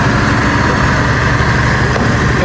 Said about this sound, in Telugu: ట్రైన్ పోతుంది